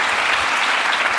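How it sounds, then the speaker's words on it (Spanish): Audience applause fills the whole moment, a dense, steady wash of clapping from a live crowd at a podcast recording, loud and unbroken with no talk over it. "un aplauso para todos ellos"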